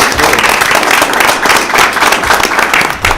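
Audience at a school board meeting clapping for a student character award winner, steady dense applause filling the room, loud and close, without talk.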